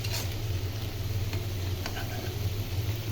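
Bitter gourd (karela) frying in a pan with fish roe, a steady close sizzle with faint scattered ticks of stirring over a low kitchen hum.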